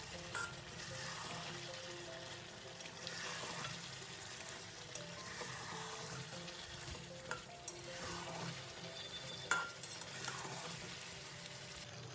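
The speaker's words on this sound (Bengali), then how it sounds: "চিকেনটিকে আমি ভালোভাবে কষিয়ে নেবো" Chicken being sautéed in a pan for a Bengali-style chicken curry, a steady moderate sizzle with repeated swishing strokes of stirring and occasional light clinks, no voices.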